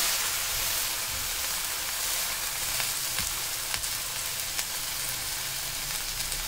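Idli batter uttapam sizzling steadily in a hot pan after being flipped, a continuous close frying hiss with faint crackles and no voices.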